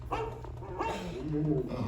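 A dog whimpers close by in short, high, wavering whines over a steady low hum.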